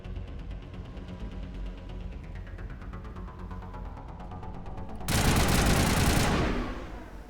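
Gunfire in the video game Mass Effect Legendary rattles as rapid, evenly spaced automatic shots for several seconds under a droning hum, then gives way to a loud broadband blast of noise near the end.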